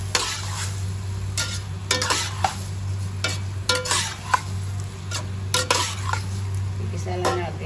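Ingredients for carbonara, including ham, being sautéed in a pan, with a constant sizzle under a low steady hum and frequent scraping, tapping stirs of a utensil against the pan, near and clear.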